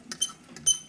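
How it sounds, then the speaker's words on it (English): Squeaking from a clutch part on a 1972 Harley-Davidson XL Ironhead Sportster during primary repair, two short, fairly faint high creaks about half a second apart, with no talk. "Squeaky, it's going to dry."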